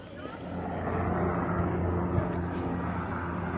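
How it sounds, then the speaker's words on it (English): Helicopter taking off across the river from the Brooklyn Heights piers, a distant steady engine drone rising and holding, with voices talking over it. "every few minutes, choppers taking off."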